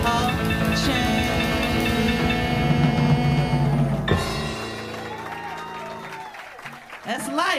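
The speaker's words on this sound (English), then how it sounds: "Thank you so much for your applause" Applause from a jazz festival crowd rises under the closing of a band's music, then continues more thinly once the instruments stop.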